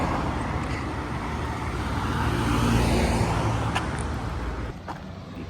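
Steady flow of cars, multicabs, tricycles and taxis passing along a Davao City street on a Sunday, a continuous close traffic roar that swells in the middle and eases toward the end, with no talk.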